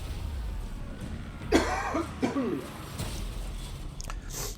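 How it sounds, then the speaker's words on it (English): A man coughs twice in quick succession, harsh and close to the microphone, with a short throat-clearing sound afterward, over a quiet indoor background. "Excuse the cough"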